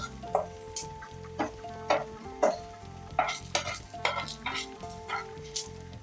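Onions and spices fry in a pan for a Mangalorean chicken ghee roast, sizzling steadily up close while a spoon scrapes and stirs in regular rhythmic strokes.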